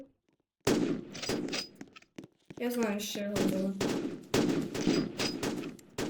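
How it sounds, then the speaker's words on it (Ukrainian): Rapid gunfire bursts in a Roblox first-person shooter crack repeatedly while someone talks over them, with a brief tonal musical sting in the middle. "Зараз я хочу стати і постійно всіх стріляти"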